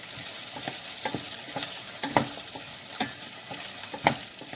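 Onions and garlic fry in a pan for a rosemary Alfredo sauce, a steady close sizzle broken by several sharp scraping stirs and clinks at an uneven rhythm, with no talk.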